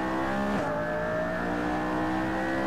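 McLaren P1 race car in a racing video game accelerating onto a long straight, a loud continuous engine drone with a sharp pitch shift as the gear changes, steady and close.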